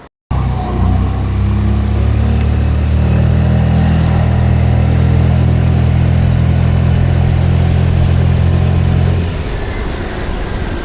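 A Hero Destini 125 scooter pulls away and accelerates on a road, its small engine droning loud and steady at close range for about nine seconds before easing off, with rushing wind noise and no talking.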